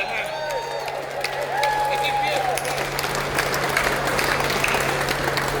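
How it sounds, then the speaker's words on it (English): Festival crowd applauding at Rebellion, a steady wash of clapping and crowd noise running the whole time beneath someone talking. "Let's give a round of applause to everything going on around us"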